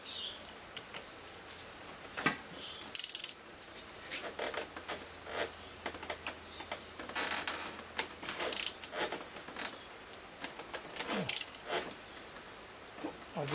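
Socket wrench ratcheting on a 21mm top nut of a 1992 Yamaha FJ motorcycle fork, clamped in the triple clamps: several short bursts of quick ratchet clicks at close range, separated by quiet pauses, with no talking.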